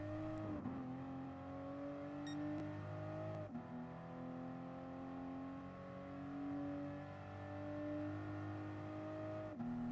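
A Toyota GR Supra in Gran Turismo Sport on the Nurburgring drones steadily at high revs, its engine tone rising and dipping with gear changes and throttle, loud and continuous with no voices.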